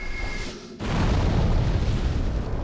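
A deep boom erupts in the Demon's Souls video game, a sudden burst that swells into a sustained rumbling roar lasting a couple of seconds, loud and without voices.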